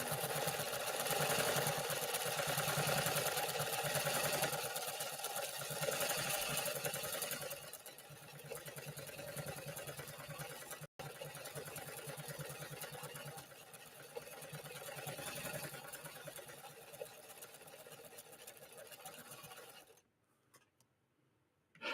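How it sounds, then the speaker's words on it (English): A 1960 Pfaff 230 mechanical sewing machine stitches steadily for most of the run, its rapid mechanical clatter continuous and close, with a brief break and a drop in level near the end before it cuts off. "You're going to hear those mechanical parts engaging and disengaging very rapidly in the sewing process."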